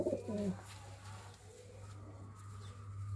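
Pigeons cooing at a breeder's loft, a short low throaty coo near the start followed by quieter rumbling and a steady background hum.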